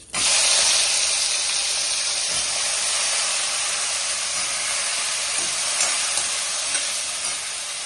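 Brinjal (eggplant) pieces fry in hot oil with turmeric and spices, giving a loud, continuous broad sizzle that starts abruptly and holds steady before easing slightly, with no talk.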